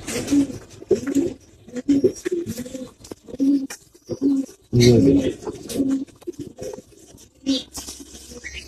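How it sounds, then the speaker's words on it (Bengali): Teddy pigeons coo in repeated low, rounded calls close by, several rising and falling bursts spread across the stretch, with someone briefly talking among them. "তার মধ্যে এটা হচ্ছে অন্যতম বিশেষ একটা টেডি কবুতর"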